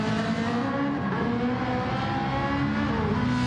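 A Gr3 race car revving steadily down a straight on the Nürburgring in a racing video game, a continuous loud engine drone with shifting harmonic tones throughout and no speech.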